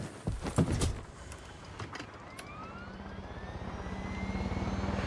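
A helicopter flies in Far Cry 6, its rotor and engine drone swelling steadily louder and higher in pitch after a few sharp, scattered game impacts at the start.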